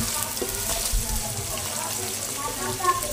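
Sliced onions fry in a pot for vegetable pulao, giving a steady, close sizzle with soft crackles that continues unbroken for the whole stretch.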